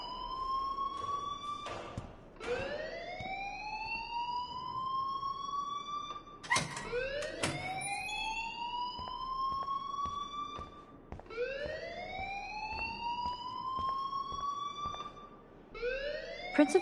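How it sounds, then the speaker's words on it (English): A wailing siren-like alarm rings through a school building in the Life is Strange game, rising sweeps repeating steadily and loudly with brief breaks, no talking over it. "please turn off that alarm since that's your job"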